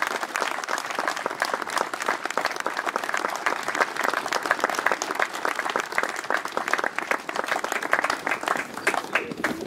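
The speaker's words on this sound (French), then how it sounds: "applaudissez celui qui nous invite" Outdoor inauguration crowd in La Lande-Chasles applauding the mayor with sustained, even clapping from many hands, moderately distant and steady for nearly ten seconds with no speech over it.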